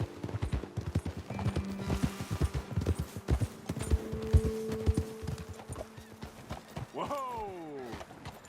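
Horses' hooves clip-clop steadily while riding in the video game Red Dead Redemption 2, with a brief whinny near the end; a voice talks over the hoofbeats.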